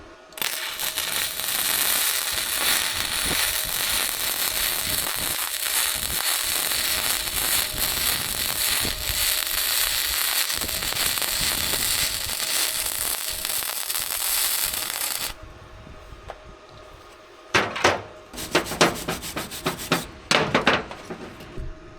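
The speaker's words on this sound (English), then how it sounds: "We're set up at 70 amps. And I got a piece of scrap metal here. We're going to try our first arc" A budget BestArc Gen 7 MIG welder runs at 70 amps on a piece of scrap metal, giving a steady loud crackling sizzle for about fifteen seconds, then stopping, followed by a few scraping and clanking handling noises.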